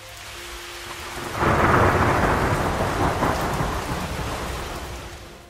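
A deep roll of thunder swells up and rumbles on over steady heavy rain, then slowly fades.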